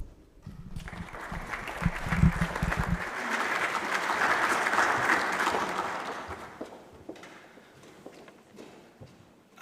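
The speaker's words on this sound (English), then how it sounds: "Please give him a warm round of applause" At the opening of a biosafety conference, an audience gives a speaker warm applause that swells after a few low thumps, holds steadily as a moderate wash of clapping, then fades away toward quiet.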